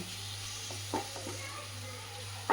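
Mango curry, Palakkad-style mango with mustard tempering, being stirred in a pan on a gas stove after jaggery powder goes in: a soft, steady sizzle with a few light scraping knocks from the spoon, quiet and continuous with no talking.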